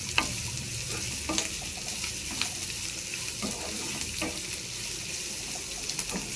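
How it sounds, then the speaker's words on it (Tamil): Potatoes and onions fry and sizzle steadily in a pan, with repeated scraping clicks from a stirring utensil at irregular intervals, close up and without talk. "இந்த உருளைக்கிழங்கு போட்டு இது நல்லா செவுக்க வறுக்கணும்."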